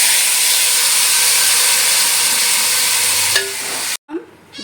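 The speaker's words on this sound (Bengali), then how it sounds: "অল্প একটু তেল গরম করে 2 তেজপাতা, গোটা গরম মশলাগুলো তেলের মধ্যে দিয়ে দিলাম, দিয়ে একটু নাড়াচাড়া করে ম্যারিনেট করা মাংসটা দিয়ে দিলাম।" Marinated chicken hits hot oil with bay leaves and whole spices, giving a loud, dense sizzle and hiss that cuts off abruptly near the end and then briefly flares again as stirring begins.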